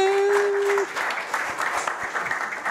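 Audience applause for Anitha at an investor pitch session, moderate clapping from a modest crowd lasting a few seconds, starting right after a brief steady tone.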